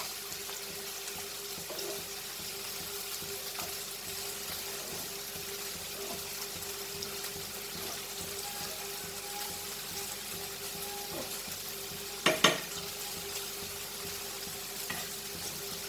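Prawns fry with curry leaves in a pan, giving a steady soft sizzle throughout, faint and even, with a single sharp clink near the end.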